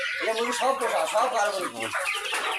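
Several chickens cluck continuously up close, their overlapping calls filling the whole stretch.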